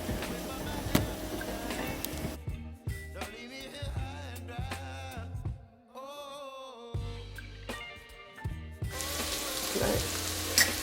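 Vegetables cooking in a skillet sizzle near and steady at the start and end, while music with clear melodic tones takes over most of the middle.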